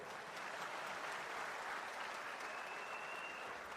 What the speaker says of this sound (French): Vous pouvez l'applaudir, ils font le travail.